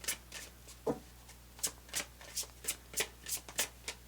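A deck of cards is shuffled for a pick-a-card reading, giving a quick run of about a dozen crisp riffling bursts in a steady rhythm, close and fairly loud, with no talking.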